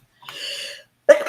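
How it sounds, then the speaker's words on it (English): A single person's sneeze, with a drawn-in, voiced build-up followed by a short pause and then a sudden loud burst, close and alone. "I feel like I'm going to sneeze"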